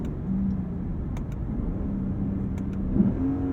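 A 2023 Lexus IS 500 V8 drones steadily from inside the cabin, a loud continuous engine note holding near-constant revs with no talking.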